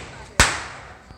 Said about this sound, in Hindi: उस रावण से ज्यादा पटाखे इसमें लगे हैं